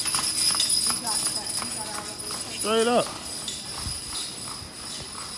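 Horse hooves clip-clop on a street, an uneven run of hoof strikes heard under someone talking and other street noise.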